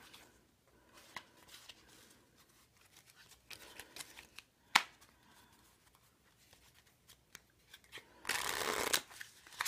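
A deck of Bicycle playing cards with an air-cushion finish is handled close up, with soft flicks and snaps of cards throughout and a loud, dense riffle shuffle near the end; no talking.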